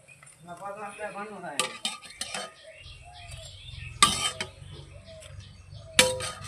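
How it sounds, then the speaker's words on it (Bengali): Fried Folui fish fritters being lifted onto a plate, with sharp metallic clinks and scrapes of a utensil against cookware and plate, scattered irregularly, along with a brief voice at the start. "এবার বড়াগুলো আমি প্লেটে তুলে নিচ্ছি"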